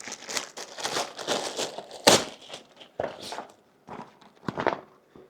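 A water-resistant zipper on a motorcycle pannier bag being pulled open, giving a run of close, raspy crinkling and scraping bursts with short pauses between pulls.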